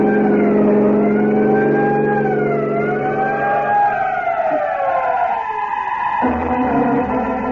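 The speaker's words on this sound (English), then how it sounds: "Sound your siren." Siren wailing from an emergency truck in an old radio drama, loud and continuous with rising and falling sweeps, a vehicle engine rumbling underneath and a drop in pitch near the end.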